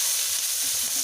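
Steady, bright sizzle of chayote frying in hot oil in a pan, a continuous close hiss with no talking.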